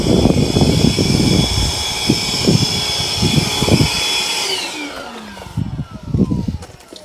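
A portable dust extractor vacuum with a freshly cleaned filter whines loudly and steadily, then winds down as it switches off, with someone talking over it.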